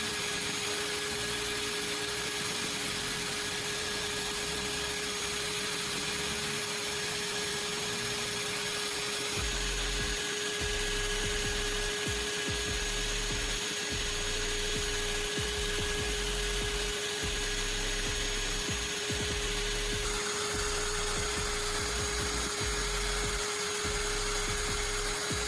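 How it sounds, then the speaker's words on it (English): A power tool whines steadily while sharpening a pruning shears blade, a high continuous grinding hum with rougher bursts of contact partway through as the blade is turned, close and loud, with no talking. "I'm rotating the blade to ensure both sides get an even sharpening."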